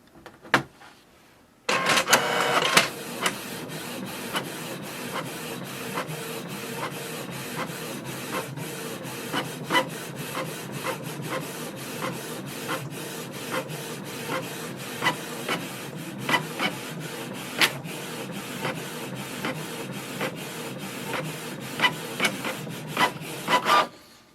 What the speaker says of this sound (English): and it will start the printing.